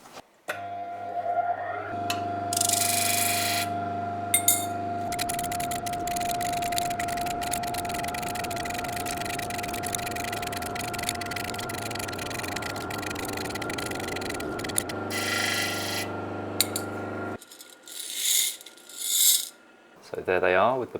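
Small brass CNC-made parts have the parting-off pips ground away, heard as a sustained mechanical grinding whir with an underlying tone that starts, runs steadily for about ten seconds and stops, with clicks and handling noise around it.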